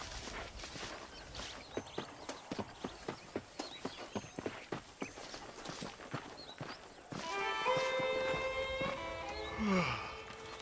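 Steady clip-clop of horse hooves at a riding pace in Red Dead Redemption, rhythmic and close, giving way after a few seconds to louder ambient game music and sounds.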